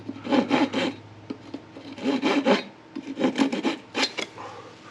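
Wooden spindle rubbing back and forth in a carved channel on a wooden fireboard to make a friction fire, a close, raspy grinding in repeated strokes with short pauses.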